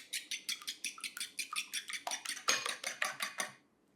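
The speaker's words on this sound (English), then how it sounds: "So we're going to crack 2 eggs. Beautiful eggs. And scramble them a little bit." Two eggs whisked in a bowl, a steady run of about twenty quick, bright clinks and scrapes of a utensil against the bowl, close and fairly loud, stopping abruptly near the end.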